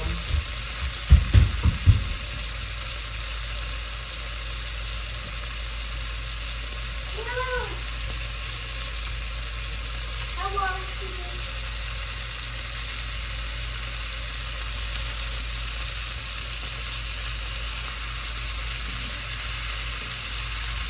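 A ribeye steak sears in a skillet over high heat, giving a steady, even sizzle throughout, with a few soft knocks near the start and faint brief chirps partway through.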